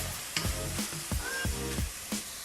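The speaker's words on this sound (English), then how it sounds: "Ooh, hear the sizzle." Peppers and onions sizzle in hot oil in a home kitchen pot for a curry quinoa dish, giving steady crackling frying noise with rhythmic stirring scrapes and clatters about every half second.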